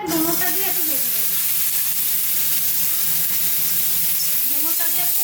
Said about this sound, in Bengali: ডুমুরটা দিয়ে একটু ভেজে নেব।